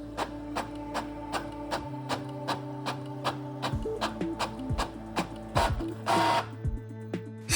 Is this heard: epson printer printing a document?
yes